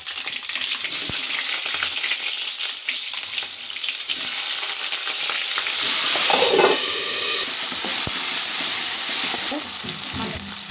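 Onions and green chillies fry in a pan for ridge gourd curry, giving a loud, steady sizzle and hiss with occasional stirring scrapes, close by and without talk.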